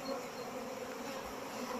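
Honeybees swarm and buzz around an opened wooden hive box in spring, a dense, steady, close drone that holds without a break.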